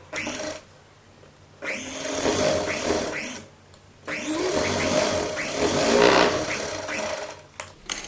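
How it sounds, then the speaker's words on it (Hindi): Sewing machine running in bursts while stitching along the neck edge of a kurta, two long runs of steady whirring with brief pauses and a short stop near the end, close and moderately loud, no talking. "अब हम इस कपड़े को पकड़ते हुए यहाँ किनारे एक सिलाई लगा लेंगे"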